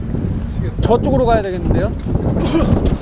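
Strong wind buffets the microphone in a continuous low roar on an exposed coastline, with someone talking over it.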